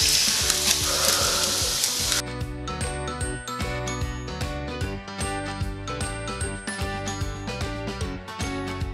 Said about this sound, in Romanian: i-am tras la tigaie, că avem o tigaie chinezească, o wok, de tip wok mare